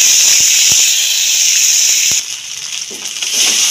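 Ground green chili and ginger paste hitting hot oil left from frying vegetables, a loud, close, steady sizzling hiss that dips briefly and then swells again, with a few faint clicks and no talk.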